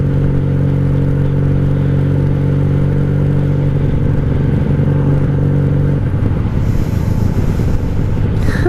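A 1997 Honda Magna 750 V-four motorcycle cruises along in fifth gear, its engine droning steadily and loud from close by with a smooth, even hum and road rumble, shifting slightly in tone after a few seconds.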